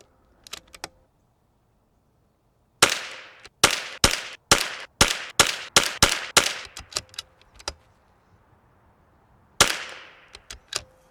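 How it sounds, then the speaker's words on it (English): A .22 LR rifle fires budget ammunition for groups at an outdoor range: a few sharp cracks, then a steady string of about ten evenly spaced shots, a pause, and one more report, each loud and close with a brief tail. "So let's get out there and shoot some groups and see what happens."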